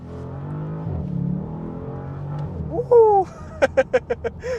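2022 Bentley Continental GTC in sport mode on a curvy road: the engine hums, then the exhaust rises into a sharp rev and a downshift, followed by a rapid series of loud exhaust pops and crackles, close by.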